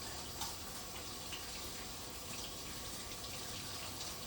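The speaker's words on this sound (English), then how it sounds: "I'm gonna wash my hands one more time since I did all of that." Hands are washed under a running kitchen tap after kneading bread dough, a steady close hiss of flowing water with faint splashes, even throughout and free of speech.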